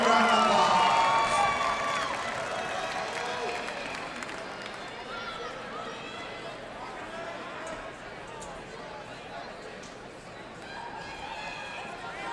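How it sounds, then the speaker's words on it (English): A crowd at a fight event applauds and cheers as a fighter from the red corner is introduced. The noise is loudest at the start, then settles into steady clapping and chatter, with voices mixed in. "let's give him a big round of applause"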